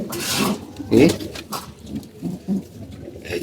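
Pigeons coo softly nearby in a few short, throaty bursts, with light rustling and scattered background noise.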